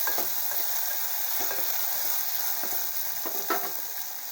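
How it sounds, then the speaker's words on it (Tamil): Onion, garlic and tomato sautéing in a pan for a green pea and potato kurma, a steady close sizzle with light stirring scrapes, no talking. "நல்லா வதக்கி விடலாங்க."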